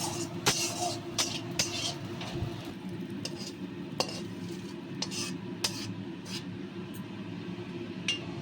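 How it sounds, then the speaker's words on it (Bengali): Neem leaves stirred and fried in a little oil in a pan, with a soft continuous sizzle under repeated clinks and scrapes of a spatula against the pan at an irregular rhythm. "এবার আমি এটাকে নেড়ে নেড়ে ভেজে নেবো"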